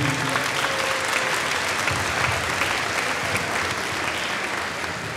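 An audience at a Madera South band event claps in sustained, dense applause that stays full and even from start to finish, a broad wash of many hands in a large space, with no clear talk above it.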